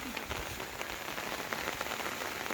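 Light rain patters continuously on surfaces, an even hiss of fine drops, faint and steady, with no voices.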